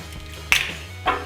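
An egg for crêpe batter is cracked on the rim of a glass, giving a crisp, close tap and then a softer second knock a half-second later.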